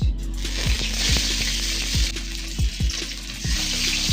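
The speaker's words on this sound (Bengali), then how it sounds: "তেলটা গরম হয়ে গেছে, এখন মাছ ছাড়ার পালা" A whole fish sizzles in hot oil in a kitchen pan, giving a steady, close hiss with a few dull low knocks at uneven intervals, and no voices.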